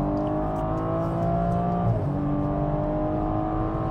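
A stage 1 tuned BMW M135i engine roars steadily and loudly from inside the moving car, a sustained drone with shifting pitch as it revs, no talking over it.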